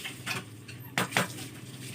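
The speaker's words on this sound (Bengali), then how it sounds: "সরাটা লাগিয়ে দিলাম।" A lid set onto a pot of boiling rice with potatoes and pumpkin leaves gives two quick, close clinks of metal or clay against the rim over soft kitchen background noise.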